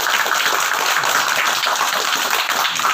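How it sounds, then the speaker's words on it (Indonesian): Loud, close clapping from a small group at a children's birthday gathering, a steady uninterrupted patter of hands for a few seconds with no speech over it. "Tepuk tangan untuk tambahannya."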